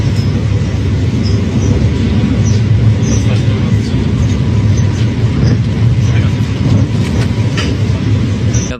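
Rumbling interior of a moving passenger train in Italy, a steady loud low-frequency roar with faint rattles and clacks throughout, and voices murmuring in the carriage.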